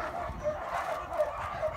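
A dog at an animal shelter gives a series of short, high yips and barks in a quick, repeated rhythm, fairly close.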